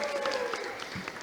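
Brief applause for the quiz teams at a school quiz final in Banda Aceh, a short burst of clapping with a voice over it.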